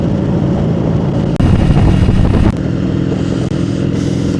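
Motorcycle cruising along open roads lined with fields in Haryana, India, its engine a steady loud drone with wind rush, shifting in tone partway through as the ride continues.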